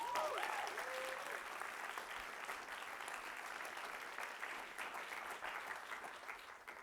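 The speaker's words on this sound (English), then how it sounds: "maybe a round of applause for all of our mentors." An audience at a startup demo day applauds its mentors, steady even clapping from a room full of people, fairly faint and distant, with a brief voice at the start.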